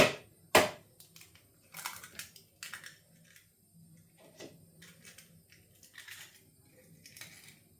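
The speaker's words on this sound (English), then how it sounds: "first up we'll beat this egg" An egg being beaten with milk in a bowl, with a sharp knock at the start followed by quick, light whisking and tapping strokes in irregular bursts, close and moderately quiet.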